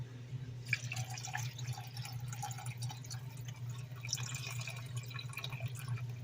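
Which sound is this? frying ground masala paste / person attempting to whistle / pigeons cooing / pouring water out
pouring water out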